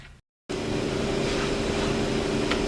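A heater runs steadily in a cold workshop during work on a Jeep Grand Cherokee EcoDiesel, a loud continuous hum with a tonal drone that starts abruptly after a brief silent gap.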